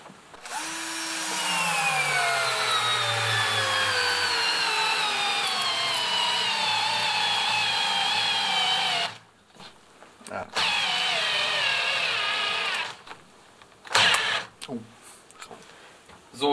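A cordless drill drives a 120 x 6 mm hex screw into wood, with a long, strained motor whine that slowly drops in pitch, then stops and restarts in shorter bursts mixed with clicks.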